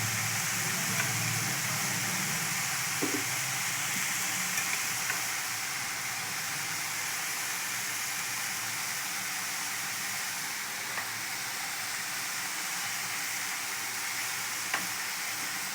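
Tomato, garlic and curry leaves fry in oil for egg bhurji, giving a steady loud sizzle and hiss that runs throughout with faint stirring clatter.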